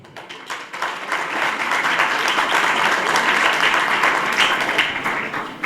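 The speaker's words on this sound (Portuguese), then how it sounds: "Vamos aplaudir." An audience closes a law lecture with applause, a few scattered claps quickly swelling into a full, steady clapping crowd that holds for several seconds before starting to thin.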